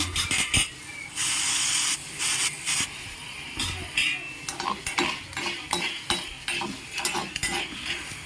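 Curry leaves frying in a pan for a karivepaku dish, crackling and hissing in bursts while a metal spoon scrapes and clatters against the pan in uneven rhythm, close and fairly loud, without speech.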